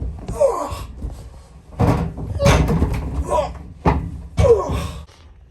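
A heavy inside door of a vintage Otis traction dumbwaiter swings and shuts with several solid thuds and clunks, close by, with brief murmured talk in between.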